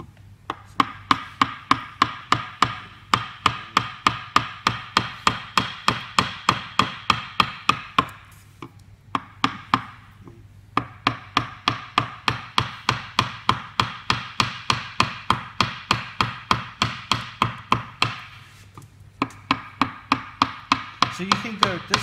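A chisel is struck repeatedly into wood while carving a Māori pou, producing a long run of sharp, evenly paced knocks, close and loud, with two brief pauses.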